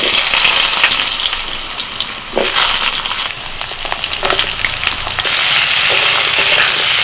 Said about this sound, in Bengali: ডাটা আর আলু ভালো করে ভেজে নেব